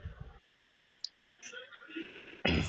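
A computer mouse clicking on a login button: a single sharp click in a near-silent stretch, followed by faint shuffling, with someone speaking Hindi before and after.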